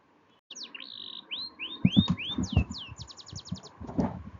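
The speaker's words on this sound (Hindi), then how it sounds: "चिड़ियों ने चहचहाना शुरू कर दिया" Birds chirp in quick rising tweets and rapid trills, close and bright, over a softer background rustle.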